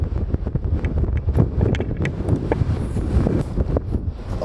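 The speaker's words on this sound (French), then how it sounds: "Le vent souffle super fort, mais le soleil est là." Strong storm wind in Iceland buffets the microphone with continuous loud, rumbling gusts and rough flutter throughout, with no clear speech.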